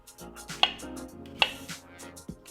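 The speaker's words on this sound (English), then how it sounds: "We're gonna slice this mushroom, which is already washed." A knife slices through a washed mushroom into thick pieces on a cutting board, with three sharp, distinct cuts spaced apart. The cuts land over a low, quiet background.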